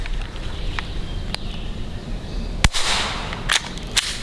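A rifle fired with subsonic ammunition gives sharp, fairly quiet reports: one clear shot near the middle and a couple of smaller cracks afterward, over outdoor background noise with faint earlier clicks.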